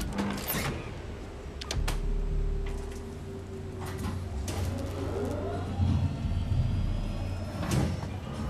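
A powered door mechanism in Alien Isolation creaks and groans, with sharp metallic clanks and thuds at intervals over a low mechanical hum, no talking.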